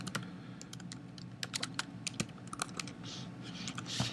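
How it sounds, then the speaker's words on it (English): Quick, uneven keystrokes on a computer keyboard, close and fairly quiet, as a short phrase is typed in bursts of clicks with brief pauses. "So I type it in."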